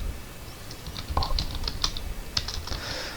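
Typing on a computer keyboard while entering commands in a Linux terminal on Debian 10: irregular, close, light key clicks and taps over a steady background hum, with no talking.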